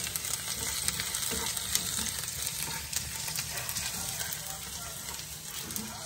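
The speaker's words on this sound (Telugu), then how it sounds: "మనం కట్ చేసి పెట్టుకున్న జింజర్ గార్లిక్ వేసేసుకుందాం. కొంచెం ఫ్రై అవుతుంది." Ginger and garlic frying in hot oil, a steady dense sizzle and crackle that runs through the whole stretch at a moderate, even level.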